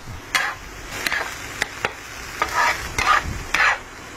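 Masala with butter being stirred in a pan for mini uttapam, with irregular scraping strokes and clinks of a spoon against the pan over a faint sizzle, close and fairly loud.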